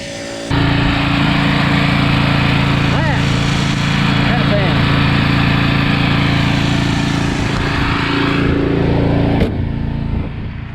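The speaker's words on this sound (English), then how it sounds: "That was one of the original bus heater fans." An original school bus heater fan motor runs, starting abruptly with a loud, steady electric whir and hum that continues at constant level before cutting off near the end.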